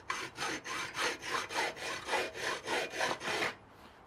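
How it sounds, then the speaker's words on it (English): A hand saw cuts through thin metal beach parasol tubing with a steady back-and-forth rasp, about eight even strokes roughly half a second apart, close and clear, ending in a brief quiet. "I'm marking the edge of where I want to saw. It's very thin tubing anyway."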